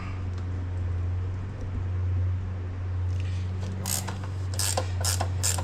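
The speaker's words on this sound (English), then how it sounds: "get this bolt tightened down a good ways" Ratchet wrench clicking as it tightens a bolt on a Honda 350X fork, a low steady hum underneath and several bright bursts of ratcheting in the last two seconds.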